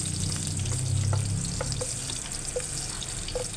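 Garlic sizzles and fries in oil in a pan, with a steady crackle close up and occasional stirring scrapes, no talking.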